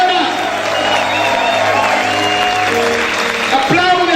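Church congregation applauding loudly and cheering during a worship service, dense sustained clapping with shouts and a preacher's voice and music over it.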